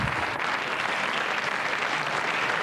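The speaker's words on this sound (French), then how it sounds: "On peut l'applaudir." A studio audience at a French television show claps steadily, a dense, even burst of applause lasting a few seconds with no talk over it.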